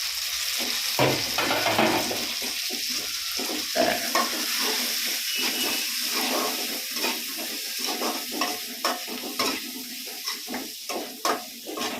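Onion, crushed garlic and mustard seeds fry in oil for a vegetable kootu, a continuous close sizzle broken by the repeated scrape and clatter of stirring.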